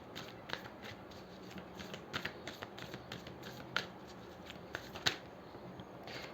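Tarot cards being shuffled and drawn by hand, a faint, close run of soft riffling rustles and light clicking card snaps in an otherwise quiet room.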